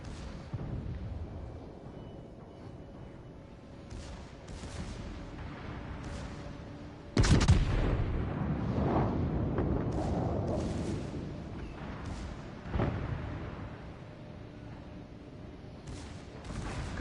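Warship naval guns fire in World of Warships, a constant low battle rumble broken by one sudden heavy blast partway through, followed by rolling echoes and a later, smaller boom.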